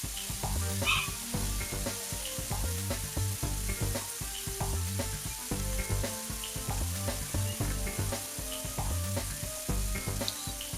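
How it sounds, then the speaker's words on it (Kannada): Chopped onion and tomato frying together in a pan for a squid sukka, giving a steady, fairly close sizzle that runs unbroken throughout over a low tonal background, with no voices. "ಮತ್ತೆ 1 ಟೊಮೆಟೊಯನ್ನು ಸಣ್ಣಗೆ ಕಟ್ ಮಾಡ್ಕೊಳ್ಳಿ, ಹಾಕಿ ಮತ್ತೆ ಫ್ರೈ ಮಾಡಿ."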